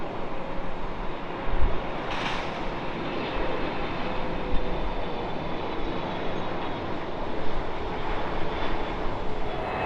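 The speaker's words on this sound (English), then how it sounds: "The British Airways 777-300." A British Airways Boeing 777-300 flies near Heathrow Airport, heard as a steady, broad jet roar that holds loud and constant throughout with slight swells, and no voices.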